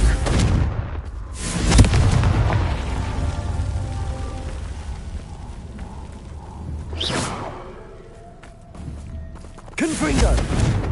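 Several Confringo blasting-spell explosions in a Harry Potter video game, loud whooshing bursts spaced seconds apart over game ambience, with a voice calling out the spell.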